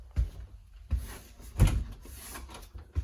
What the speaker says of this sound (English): Opening up that door,